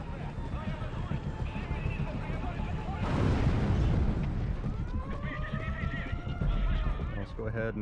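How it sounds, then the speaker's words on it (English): A horse neighs in the video game Metal Gear, a loud whinny rising and falling amid heavy rumbling bursts like explosions and a dense game soundscape, while a voice talks across it. "Let's go ahead and call our horse"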